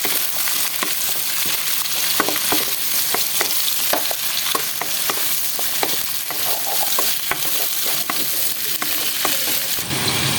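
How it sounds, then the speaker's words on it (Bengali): Carrot and cauliflower stir-fry together in a pan, a constant sizzle broken by frequent clacks and scrapes of the spatula, busy and close with no talking. "এখন আমি গাজর এবং ফুলকপিটা দিয়ে নিব। এটাকেও আমি 2-3 মিনিটের মতো একসাথে ভাজবো।"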